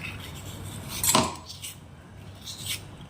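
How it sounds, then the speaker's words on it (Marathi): A pointed flat spoon scrapes pulp out of a leaf, giving one sharp, close metallic scrape followed by softer scratchy strokes against a quiet background. "तासून एक असा जरासा टोकदार सपट चमचा घ्यायचा आणि हे काढून अशा पद्धतीनं सगळा गर यात काढून घ्यायचा"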